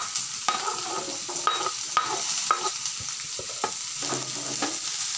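Capsicum, beans, carrot and onion are stir-fried in oil for veg hakka noodles; sharp spatula scrapes and taps land about every half second over a light, low sizzle.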